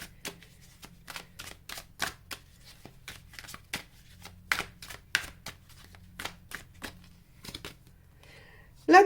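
Tarot cards shuffled by hand, a steady run of crisp riffling flicks and slaps close up, ending in a sharper card snap; a low hum sits underneath.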